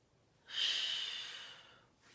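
During a mat exercise class, a single long, airy breath starts suddenly, then fades slowly over about a second and a half, close and alone.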